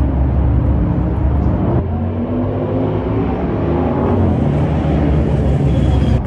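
A loud, deep engine roar rumbles steadily throughout, heavy and close, with a broad throaty drone like a powerful motorcycle idling nearby.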